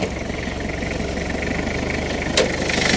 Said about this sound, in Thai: ดูห้องเครื่องกันหน่อยเสียงเครื่องยนต์นิ่มนะ